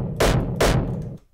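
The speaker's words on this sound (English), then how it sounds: "Kind of like a hardstyle kick" Hardstyle-like kick drum pushed through heavy tape distortion with no compression, hit twice in succession: loud, gritty, saturated thuds that sustain briefly before the tail fades out, alone with no voices.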